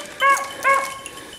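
Two short, high-pitched beagle yips or barks in quick succession, fairly close, with a faint background hum.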